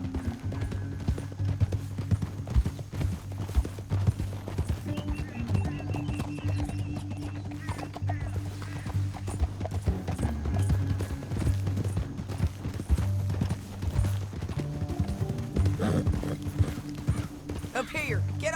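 Horse hooves clip-clop in a rhythmic gallop through Red Dead Redemption 2, the steady thudding beats running under spoken dialogue and game music for the whole stretch.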